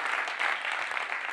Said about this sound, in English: Can we just get a round of applause just for my mum